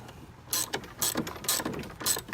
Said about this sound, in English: Now I'm going to tighten up this center bolt here.